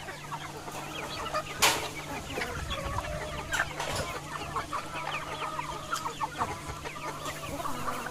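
Red hens and other chickens in a small backyard village flock cluck softly and steadily, with a louder squawk now and then, nearby, under a constant low hum.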